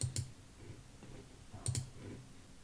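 Two sharp, faint mouse clicks on a Continue button, about one and a half seconds apart, in a quiet room.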